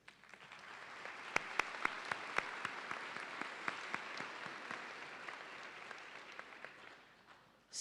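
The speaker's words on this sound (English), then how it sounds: "I'm going to ask them to stand just so we can give them a round of applause." Commencement audience applauding university cabinet members on the platform, a fairly distant, sustained round of clapping with a few sharper individual claps standing out, fading toward the end.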